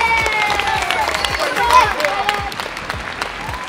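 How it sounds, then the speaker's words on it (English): A crowd at a jump park challenge breaks into loud applause and cheering, with dense clapping throughout and voices calling out over it. "Let's give him a big round of applause!"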